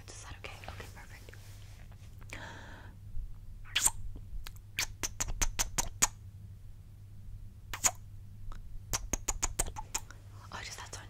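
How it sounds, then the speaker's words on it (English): Close-up ASMR kisses right against the microphone: scattered wet smacks and pops, some in quick bursts, quiet and intimate over a low hum, with soft whispering early on. "I want to kiss your ear so that you can really hear how it sounds"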